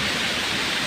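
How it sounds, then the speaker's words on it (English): Tiu Pupus waterfall roars as a loud, steady wash of broadband water noise that fills the whole short moment, with no voices over it. "finally we are in Tiu Pupus waterfall"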